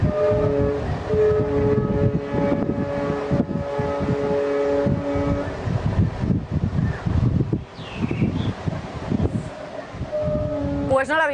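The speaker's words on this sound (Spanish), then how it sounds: "Lo que acaban de ver, 2 trenes a punto de chocar" Two trains on a collision course, a long sustained horn blast sounding over rumbling rail noise and wind, with a second horn-like tone rising near the end and a voice faintly present beneath.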